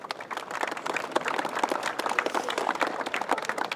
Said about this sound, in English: thanks to the referee, Martin. Clap for that